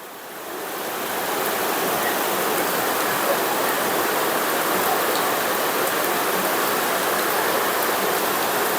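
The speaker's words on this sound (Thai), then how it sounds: "นี่ครับฝนตกนะครับโปรยปลายนะครับ" Rain falls outside a house at night, swelling in over the first second into a steady, dense hiss of drops on surfaces that holds evenly and fairly loud to the end, with no voices.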